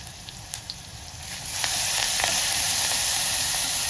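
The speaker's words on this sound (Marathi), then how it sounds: "तेल तापलं की जिरे मोहरी टाकायची थोडी. आणि हे वाटण केलेलं होतं मिरची आणि लसूणचं ते टाकायचं." A ground paste of green chilli and garlic with curry leaves dropped into hot oil already crackling with cumin and mustard seeds, a close, loud sizzle that swells suddenly and then holds as a dense, steady hiss, with no talk.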